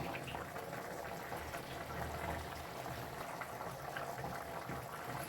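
Ridge gourd and dried anchovy curry boiling in a clay pot, a steady close bubbling and gurgling, fairly faint and continuous with no voices.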